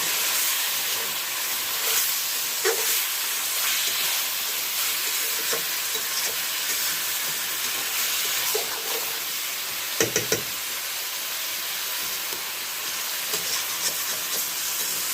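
Potatoes coated in ginger and green chili paste with kitchen king masala, stirred and sautéed in a pan, giving a long steady sizzle with intermittent spoon scrapes and a couple of sharp knocks near the middle.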